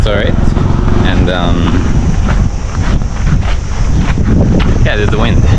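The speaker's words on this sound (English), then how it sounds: "there's the wind" Strong wind buffeting a microphone outdoors in Sri Lanka, a loud continuous rumble lasting the whole stretch, with people speaking over it.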